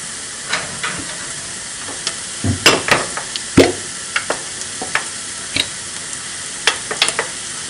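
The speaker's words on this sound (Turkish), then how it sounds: "Salçamızı da kavurduk biraz." Tomato paste sautéed in a pan for a baked pasta bolognese sauce, heard as scattered sharp spattering pops and brief stirring scrapes over a low frying hiss, close and fairly loud with no voices.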